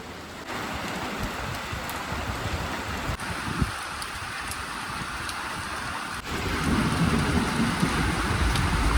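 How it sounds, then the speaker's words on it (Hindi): Heavy rain hisses steadily in an almond orchard in Shimla and grows louder toward the end, with a faint low rumble underneath. "तो अभी लगी है मोटी मोटी बारिश"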